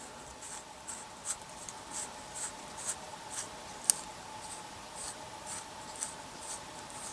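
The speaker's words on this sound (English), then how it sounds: "Now we can unscrew this plastic nut here." A plastic nut on an Atten 938D soldering station being unscrewed, giving faint, close, evenly spaced plastic clicks and light scraping that repeat steadily for several seconds with no talking.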